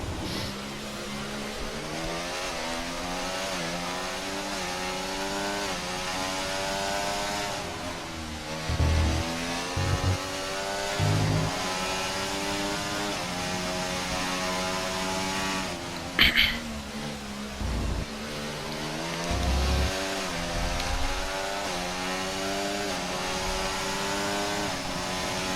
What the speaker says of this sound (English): The Williams, the Mercedes engine is of great sound to hear whilst on board.